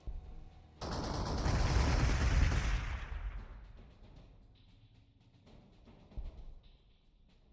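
Units open fire on a city in Warhammer 40,000: Gladius, a loud dense barrage of rapid gunfire and blasts that bursts in suddenly, rages for a couple of seconds, then tails off into scattered distant pops.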